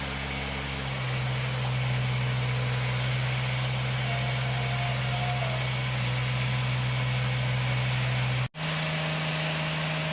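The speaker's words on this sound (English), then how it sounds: "It's a little narrow 3-foot machine that extends legs out the side and has a big arm." A narrow three-foot utility pole-setting machine with outrigger legs and an auger arm runs its engine at a steady idle, a close continuous hum that drops to a lower pitch near the end.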